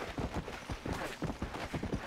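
Horse hooves in Red Dead clip-clop in a steady quick rhythm, moderately loud against a noisy outdoor game background.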